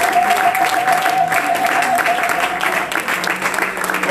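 A congregation claps through a French-language prayer service, a steady, dense wash of hands that stays loud and unbroken from start to finish, with a sustained tone and faint voices underneath.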